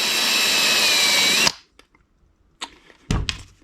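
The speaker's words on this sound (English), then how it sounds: "we'll drill this out. Keep an eye on it so I don't go too low." A power drill whirs steadily at high speed, drilling out a hole for a screw on a Honda ATC 200X, then cuts off abruptly, followed by a few light clicks and clunks of handling.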